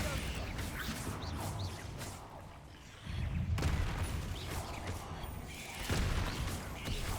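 Repeated Bombarda explosion spells in Hogwarts Legacy, heavy blasts and crashing bursts rumbling one after another amid other spell effects, with no talk over them.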